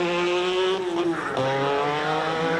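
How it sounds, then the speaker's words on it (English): A 1987 MG Metro 6R4 rally car's engine roars at high revs through the top corner of a rally sprint, pitch dipping and rising with tyre noise, loud and close, no talk. "This is the tidiest of the cars around that top corner, Mike."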